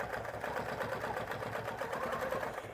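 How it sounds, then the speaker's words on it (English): A sewing machine stitches down a quilt block with a steady, fast mechanical whir and rhythmic needle clatter, running continuously at moderate volume with no talk. "I'm just going to sew down to just put it in place."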